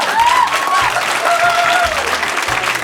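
An audience at an improv comedy jam claps enthusiastically, a dense burst of applause and cheering that stays loud throughout, with a few voices calling out above it.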